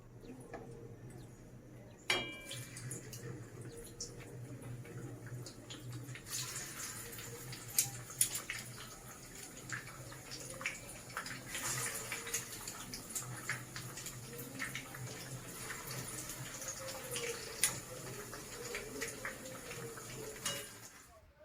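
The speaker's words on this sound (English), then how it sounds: "My plantain has been frying for some minutes now" Plantain slices fry in a pan of hot oil, giving a faint, steady sizzle with scattered small pops and ticks throughout, quiet and close, with a sharper clatter near the start.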